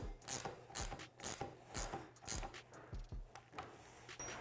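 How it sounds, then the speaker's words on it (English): Metallic ratcheting clicks in a steady rhythm as a base valve is threaded onto KYB SSS dirt bike forks, close up with no talk. "We'll go ahead and thread the base valve on."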